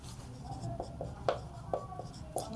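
Chalk or marker writes on a board during a maths exercise in a classroom lesson, giving a series of short taps and scratchy strokes, close and fairly quiet, with no speech over it.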